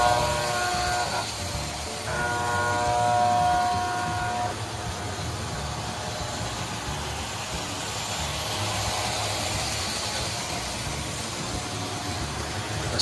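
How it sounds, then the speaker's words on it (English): An American Flyer #5585H Santa Fe freight toy train from 1955 sounds its horn in steady electronic tones for several seconds, then the simulated diesel engine roars with a broad rumbling drone that continues evenly. "So we'll just fire off the horn. And then get the engine roaring and we'll take off."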